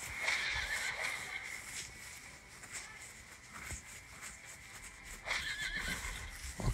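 Horses neigh and whinny in a video game fantasy battle, several loud shrill calls at the start and again near the end, with hoofbeats and combat noises between.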